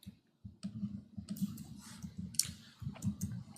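Quiet, uneven keystroke clicks on a computer keyboard patter steadily over a low background hum.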